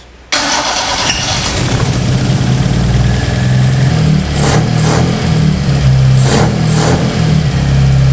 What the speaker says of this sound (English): The engine, had this powerful, awesome, carbureted sort of sound.